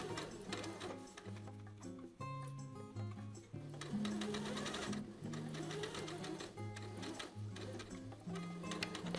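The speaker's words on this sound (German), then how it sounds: "Diese Kante wird mit 6 mm Nahtbreite zusammengesteppt." A sewing machine stitching a 6 mm seam along the pocket bag edge of homemade jeans, its fast mechanical ticking running continuously under louder background music, with no one speaking.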